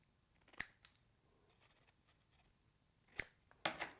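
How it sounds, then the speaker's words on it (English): Scissors snip paper pop-up pieces close up in a quiet room: a single crisp cut, then a short gap, and a quick pair of sharper snips at the end. "So I'll cut both of those back a bit."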